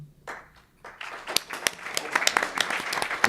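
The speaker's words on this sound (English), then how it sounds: "no pity applause" Scattered clapping at a public performance conference panel builds from a few sparse claps into light, steady applause from a small audience, with faint talk underneath.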